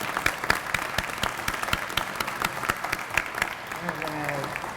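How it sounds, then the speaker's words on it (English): Audience at a funding announcement event for a community Hope Center applauds the organizers, with dense, steady clapping throughout and some speech rising near the end. "give you a round of applause, because it takes a lot to do this"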